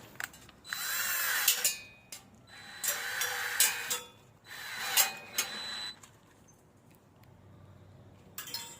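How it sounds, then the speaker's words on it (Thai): IMAX cordless drill spinning to twist and lock steel wire, in three bursts of roughly a second each with short pauses, close and fairly loud, with faint clinks of wire at the end. "แล้วนำสว่านไร้สายของ iMac ตัวนี้นะครับ มาล็อก"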